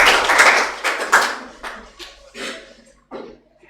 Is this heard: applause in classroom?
yes